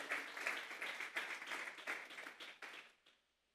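A church congregation claps together as an offering of praise during a Sunday service, a faint, distant rush of many hands that fades out toward the end.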